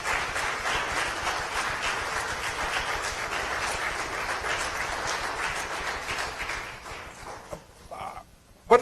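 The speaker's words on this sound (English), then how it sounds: "may I invite your applause in thanking our panelists for tonight's" Applause from an evening panel event's audience, a dense steady patter of many hands clapping that holds for several seconds before thinning out near the end.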